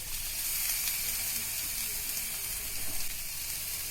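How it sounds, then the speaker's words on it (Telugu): Onion, carrot, capsicum and cabbage stir-frying on a high flame for chicken fried rice, giving a steady, loud sizzle and hiss that runs continuously with faint scraping from stirring. "క్యాబేజీని కూడా వేసి బాగా ఫ్రై చేసుకోవాలి. హై ఫ్లేమ్లో ఫ్రై చేసుకోవాలి."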